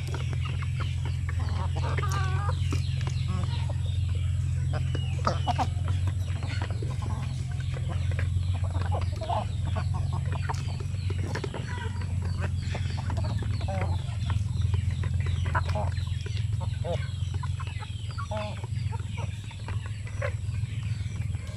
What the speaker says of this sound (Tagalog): So dito lahat na mga manok,